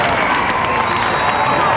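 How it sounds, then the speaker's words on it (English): Race crowd cheering in a short, steady wash of distant roaring voices and scattered claps, with no pauses. "The crowd's psyched."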